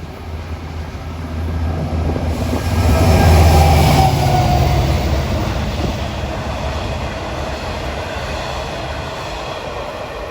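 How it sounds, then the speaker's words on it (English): A Long Island Rail Road train, number 560 bound for Oyster Bay, passes at Jamaica/Hollis with a loud, heavy rumble that swells and then eases into steady rolling wheel noise and faint clatter. "Approaching now is train 560 bound for Oyster Bay."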